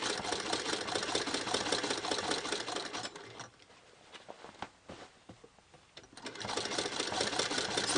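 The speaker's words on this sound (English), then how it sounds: "I'm just going to stitch down this far to the bottom of the buttonhole all the way around the bag" A sewing machine stitches around the edge of a reversible suede handbag, running loud and steady, dropping to a few quieter start-stop bursts midway, then resuming a continuous whirring run.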